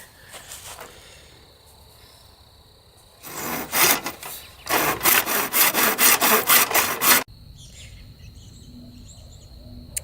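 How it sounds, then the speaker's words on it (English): Hand saw cutting through a wooden broom handle, a run of steady rasping back-and-forth strokes, close and loud, starting after a quiet pause and ending abruptly. "The first thing I need to do is cut this off. I'm just going to use my hand saw to do that."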